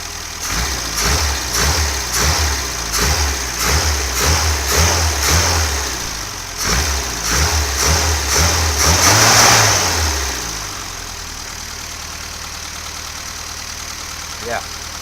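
A car fitted with a K&N induction filter idles with a rough, pulsing engine throb that rises into a short rev before settling to a quieter hum, heard close up.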